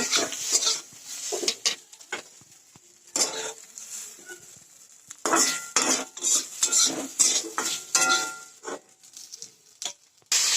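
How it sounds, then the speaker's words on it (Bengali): Kushi frying in a pan over a home cooking fire, with a utensil stirring and scraping against the metal in repeated bursts, a bright sizzle running underneath, close and fairly loud. "এই যে মা কুশিটা ভাজছে।"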